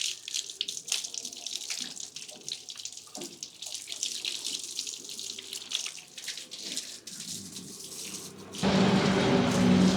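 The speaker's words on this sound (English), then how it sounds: "Now I'm giving it a very gentle wash, and I don't want to waste a lot of water" Steady rush of water running from a hose or tap while a motorbike gets a gentle wash, a continuous spray with small splashes and drips, growing louder and fuller toward the end.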